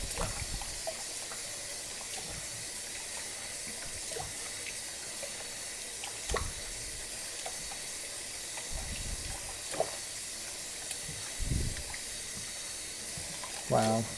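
Flour dough is kneaded and rinsed in water to make seitan, giving a soft steady wash of running water with faint squelches and occasional splashes close to the microphone.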